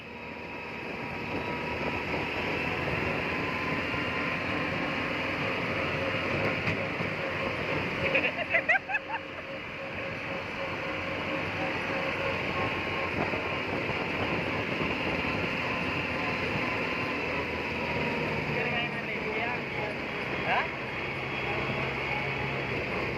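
A Kubota MU4501 tractor pulling a coconut tipper during loading gives a steady, rumbling engine drone that holds through the whole stretch. People talk intermittently nearby over the engine.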